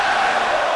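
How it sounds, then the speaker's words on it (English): A wrestling crowd in the WWE 2K23 video game roars in a dense, steady wash of booing arena noise, loud and continuous with no distinct voices. "It's so wild that LA Knight is getting booed"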